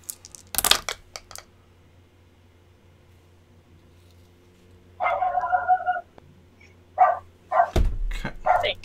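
A dog barks in short bursts nearby, several distinct barks spaced across a few seconds, with a brief crinkling thump near the start and a low rumble at the end.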